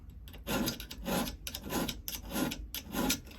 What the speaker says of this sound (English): And it doesn't take much to get these filed down.